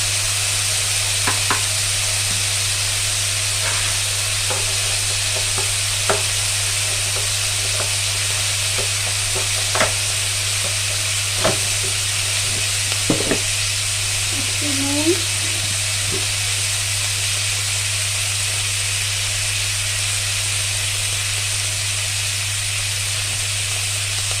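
Steady frying hiss of vegetables with turmeric in a pan, with occasional light stirring taps and clicks over a constant low hum.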